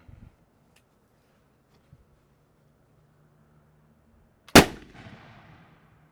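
A repaired flintlock rifle fires once outdoors, a single sharp, loud blast followed by a short rumbling decay, after a few faint knocks in near silence.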